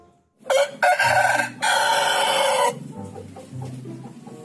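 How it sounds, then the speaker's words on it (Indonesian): A rooster crows loudly and close, a broken call in three bursts, followed by softer low clucking. "Wih, ayam jago."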